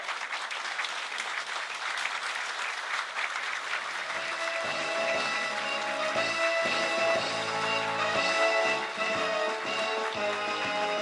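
Applause from a hall audience at the 2012 Korean trade union federation delegates' convention as guests and leaders walk in, sustained and dense throughout, with music rising underneath partway through.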